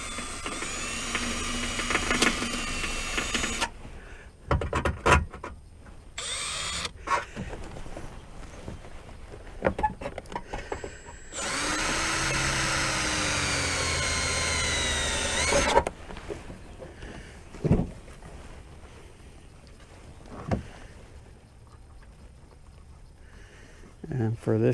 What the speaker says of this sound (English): to make a pilot hole.